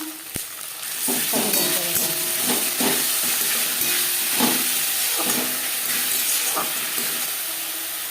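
Garlic and ginger paste sizzles steadily in a hot pan as filling for chicken momos, with repeated scraping stir strokes and soft clanks breaking through the continuous frying hiss.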